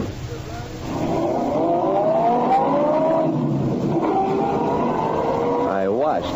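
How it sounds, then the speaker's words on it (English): Car pulling away in an old-time radio detective drama, a steady motor drone with rising pitch sweeps as it drives off, ending in a quick upward wail. "climbed back into his car and drove off"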